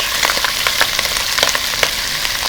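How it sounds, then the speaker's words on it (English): Deboned oxtail meat browns in a pot still coated from simmering, giving a loud, close, dense crackling sizzle with rapid irregular pops throughout, no talking. "I'm going to brown off the meat"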